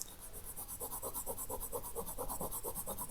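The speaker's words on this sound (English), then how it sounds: "You're basically sort of sanding it." Rapid, rhythmic rasping strokes of a homemade Arabic calligraphy pen tip being sanded back and forth on fine abrasive, steady and close.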